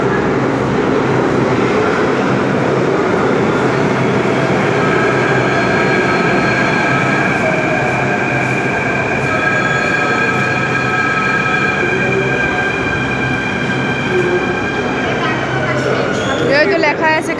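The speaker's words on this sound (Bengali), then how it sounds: "দেখ মেট্রো আছে একটু ওই দিকটা।" A Delhi Metro train near Kashmere Gate runs as a loud, steady rumble with sustained whining tones that hold for the full stretch, and voices murmur faintly underneath.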